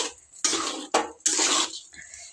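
Spoon stirring green chicken gravy curry in a metal pot, three or four loud scraping, clattering strokes with brief pauses between them, close and without speech.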